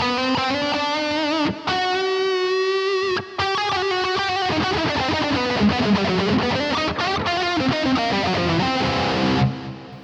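Electric guitar played through a Blackstar BEAM amp with delay and reverb, a sustained ringing melodic line with echoing repeats, loud and alone with no talking.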